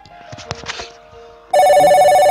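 A telephone rings out abruptly and loudly after a short stretch of quiet background sounds, its electronic bell tone continuing steadily to the end.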